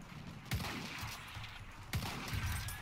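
Battlefield 1 gunfire comes as two sharp bursts about a second and a half apart over a steady rumbling background, with no talk.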